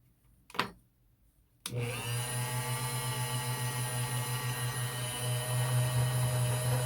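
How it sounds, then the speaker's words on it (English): A power tool grinding the bump off a custom lock security pin: a brief knock, then the motor starts and runs as a loud, steady whine with a pulsing buzz, with no talking. "And I'm going to grind the bump off of this one completely."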